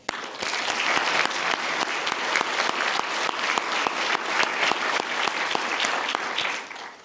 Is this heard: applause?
yes